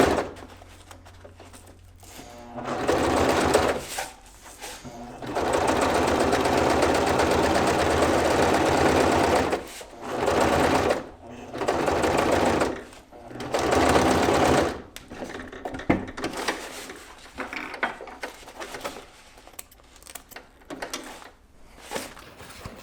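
A sewing machine stitches along the bottom edge of webbing on an Omni wrap top collar, running in several loud sustained bursts separated by short pauses, with quieter handling noise near the end.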